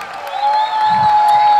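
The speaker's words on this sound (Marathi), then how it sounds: "सो जोरदार टाळ्या झाल्या पाहिजे, शिट्ट्या झाल्या पाहिजे, एक आवाज आला पाहिजे." An audience at a 75th birthday celebration bursts into sustained, loud applause with a shrill whistle held over the clapping, dense and continuous for the whole short stretch.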